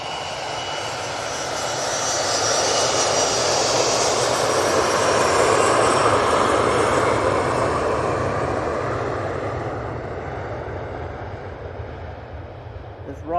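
A Loganair airliner on its takeoff roll at Manchester Airport, its engine roar building to a loud peak midway and then fading as it moves off, with a person talking faintly over it.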